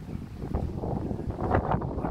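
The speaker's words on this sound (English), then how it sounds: "Sorry about the wind." Blustery coastal wind buffets the microphone at a lighthouse shoreline fishing spot, a rough, continuous low rumble with gusty swells lasting about two seconds.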